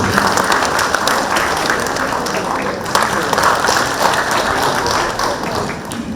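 Audience applause welcoming a university lecturer to the stage at a centenary event, continuous crowded clapping with taps and thuds, loud and steady, with some voices underneath.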